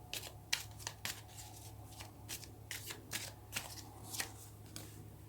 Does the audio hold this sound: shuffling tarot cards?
yes